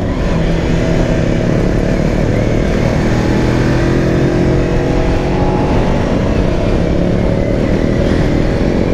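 Modenas Kawasaki Ninja 250i engine heard while riding, a loud continuous drone with wind rush, steady and close with no talking.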